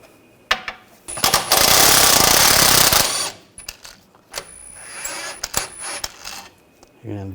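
Impact wrench with an 18mm socket removing a bolt on a 2007-2013 BMW X5 during rear wheel bearing work, one loud rattling burst of about two seconds, followed by softer clanks and shop handling noise.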